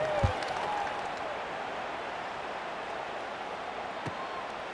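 Stadium crowd in the EA Sports College Football 26 video game, a steady, distant wash of murmur and noise throughout, with a couple of faint thumps standing out.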